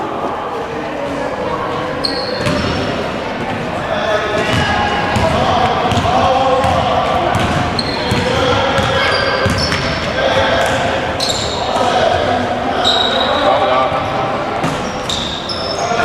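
Basketball bouncing repeatedly during a youth mini-basketball championship game between two Estonian club teams, steady dribbles and sneaker squeaks in a busy gym under constant crowd noise and voices.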